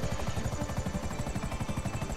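Helicopter in a GTA 5 Online heist, its rotor pulsing steadily and loudly throughout with a dense engine roar underneath.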